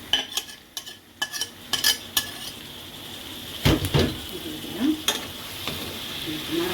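Meat frying with onions in a pan, stirred with a metal utensil that clinks and scrapes against the pan in irregular bursts over a faint steady sizzle, close and fairly quiet.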